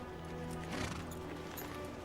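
Horse hooves clip-clopping at a Roman army camp at Munda in an ancient-Rome drama: a few faint clops near the middle, set against sustained tonal background sound.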